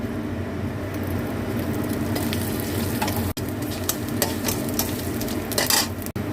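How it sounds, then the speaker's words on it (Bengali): Black cumin seeds tempering in a little hot oil in a pan, a continuous sizzle and fry with occasional stirring scrapes and a couple of brief sharp knocks. "দিয়ে কালো জিরেটা ফোড়ন দেবো।"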